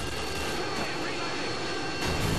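Harrier jet roaring overhead during a Call of Duty: Modern Warfare 2 multiplayer match on Derail, a continuous engine rush with a swell near the end, heard close amid game noise.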